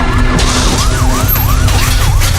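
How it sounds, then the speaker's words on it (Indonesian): A police siren wails in a fast, repeating up-and-down cycle, loud and close, with a car engine rumbling underneath. "tiba-tiba terdengar suara sirene polisi"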